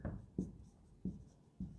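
Chalk or pen strokes on a board during a Class 10 science lesson: four short, evenly spaced scratches, faint and close, with no speech.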